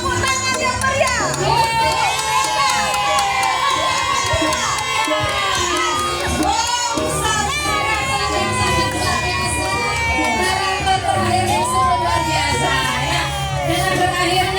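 A lively crowd at a children's preschool ogoh-ogoh parade in Jembrana cheers and shouts continuously, with children's high voices rising over a dense, loud wash of crowd noise.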